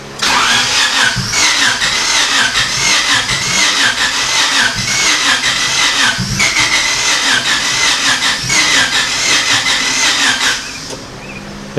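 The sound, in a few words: Honda Civic EK hatch engine cranking, trying to start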